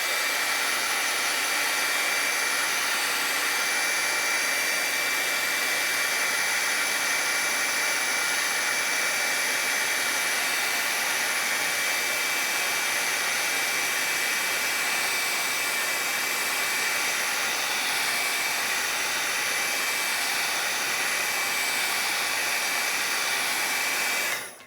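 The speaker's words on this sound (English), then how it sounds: "a little bit of a shot with my dryer here, my handy dandy tool" A handheld heat dryer blows on wet watercolor paint, a loud, steady whirring roar with a faint high whine running unbroken for about 24 seconds before cutting off.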